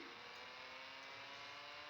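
A McLaren supercar in the mobile game Car Parking accelerates, its engine a steady, faint whine held alone for two seconds without talk.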